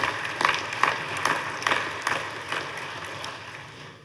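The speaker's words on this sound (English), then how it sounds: "let's give him a round of applause" A legislative chamber audience applauds the Speaker during a governor's Sine Die address, a moderate spread of clapping with rhythmic swells roughly every half second that thins out toward the end.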